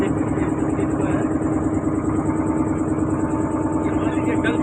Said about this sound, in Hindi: ये हमारी नाव कैसे चलती है, इसमें इंजन जो है